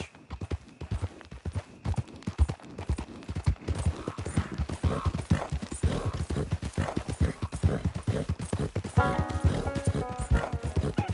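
Steady clip-clop of horse hooves in Red Dead Redemption 2 at a brisk, even pace, close and continuous, with a faint musical tone entering near the end.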